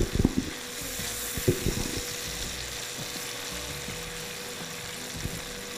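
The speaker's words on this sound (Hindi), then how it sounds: "अब मैं भून रही हूँ" Minced meat (qeema) frying in oil and masala in a pan, a steady low sizzle with scattered scraping stir clatters early on, close and alone.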